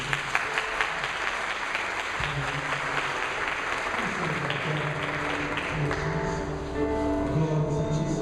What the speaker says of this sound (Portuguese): Aplauda o Senhor, vamos orar.